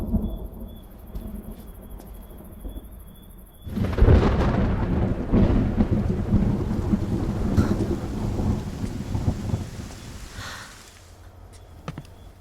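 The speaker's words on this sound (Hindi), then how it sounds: "बारिश भी तुम्हारी तरह है, एकदम से नहीं बरसती, गरज कर बरसती है।" Thunder rumbles and heavy rain pours down during a storm, the downpour rising suddenly to a loud, steady roar after a quieter stretch with faint background hum and insects, then easing off near the end.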